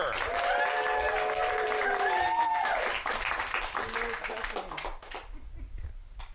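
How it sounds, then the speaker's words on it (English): Crowd clapping and cheering at an improv comedy show, with voices shouting over it, the applause thinning out and fading after a few seconds. "another round of applause for Victor"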